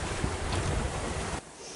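Water rushing past the hull of a sailing boat at sea, a loud broadband wash mixed with wind buffeting, continuous and close, then dropping abruptly quieter near the end.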